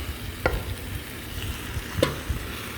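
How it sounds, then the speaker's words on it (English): Two kilograms of mutton for kosha mangsho being mixed and fried in a pan: a low, steady sizzle with a few sharp spoon scrapes and knocks against the pan, close by and with no one talking. "We can add our mutton to this and mix it again very well."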